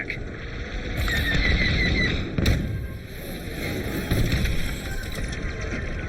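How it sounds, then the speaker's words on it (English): Loud, crackling blasts burst over a constant roar of engines and weapon fire in the space combat video game Star Wars: Squadrons, with no voices. "Satisfying explosion."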